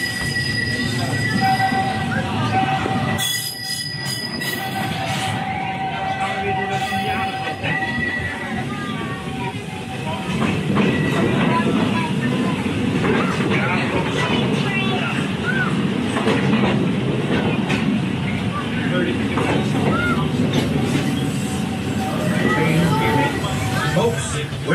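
The Big Thunder Mountain ride train at Magic Kingdom rumbles and clatters along its track with squealing wheels and a steady roar, voices and crowd chatter mixed in throughout.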